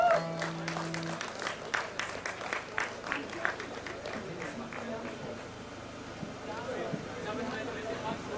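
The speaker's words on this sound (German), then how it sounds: "Also ein Applaus für die Lokomotive." A crowd at an anti-drone rally in Stuttgart breaks into applause, a dense, continuous patter of clapping with sharper bursts near the start, while voices talk over it.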